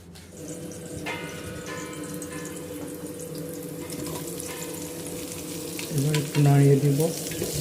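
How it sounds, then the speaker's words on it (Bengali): Rice lightly frying in a pan while cooking prawn pulao, a steady sizzle with stirring scrapes and a brief louder burst near the end, no talking. "চালটা হালকা একটু ভেজে নিব প্রায় দুই তিন মিনিটের মতো করে"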